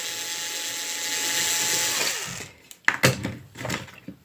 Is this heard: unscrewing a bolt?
yes